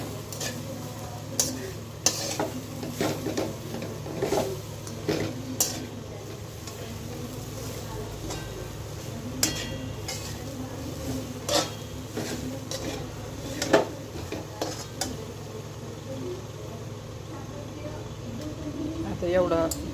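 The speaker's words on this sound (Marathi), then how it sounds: "मंद आचेवर खोबरं भाजून घ्यायचं." Grated coconut being dry-roasted in a pan over low heat for a jaggery coconut sweet, with steady spoon scraping and clinks against the pan throughout while a person talks.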